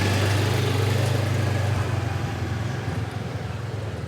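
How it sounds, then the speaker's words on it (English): A moped or motorcycle rumbles past on a Hanoi neighbourhood street, its low engine drone loud at first and slowly easing off as it moves away. "you do have to worry about mopeds and motorcycles"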